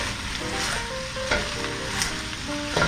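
Red cabbage frying in bacon fat as a German Oktoberfest side dish, stirred with a steady close sizzle broken by several scraping stir strokes.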